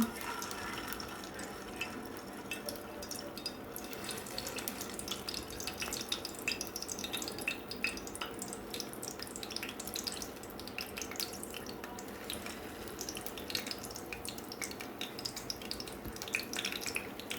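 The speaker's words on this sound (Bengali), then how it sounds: "এই তো এখন আমি আমার তেলটা গরম হয়ে গেছে কাবাবগুলো আমি সুন্দর করে ভেজে নেব" Kebabs frying in hot oil in a wok: a steady, dense crackle and sizzle holds an even level throughout with faint background noise.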